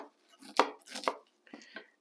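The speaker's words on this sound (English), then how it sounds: "Just scrape it up and down the cob, just like that." Back of a kitchen knife scraping a raw corn cob, three or four short close rasping strokes separated by brief pauses.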